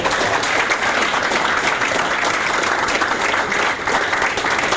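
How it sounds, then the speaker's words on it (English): A crowd at the San Francisco 49ers practice facility gives a big round of applause for the mentorship learners, loud sustained clapping from many hands that cuts off abruptly at the end. "let's give our 49 learners a big round of applause"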